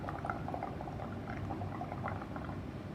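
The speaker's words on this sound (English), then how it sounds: "And then you need to blow, make the bubbles come out." Someone blows through a straw into a liquid bubble mixture in a cup, giving steady, close bubbling and gurgling with small pops throughout and no talk.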